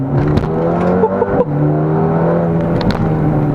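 Mercedes-AMG A35 hot hatch accelerating hard from a rolling start on a circuit, a loud close engine roar climbing through the revs with brief dips at gear changes.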